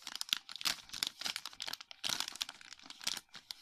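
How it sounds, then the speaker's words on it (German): Close, continuous crinkling and rustling of advent calendar packaging bags being handled, irregular crackles with no talk. "Ja, fürs Knistern kann ich jetzt nichts."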